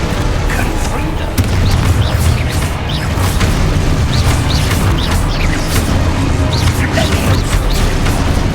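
Spell explosions in the video game Hogwarts Legacy boom and crash repeatedly amid dense battle noise, loud and continuous, with a voice calling out incantations over them.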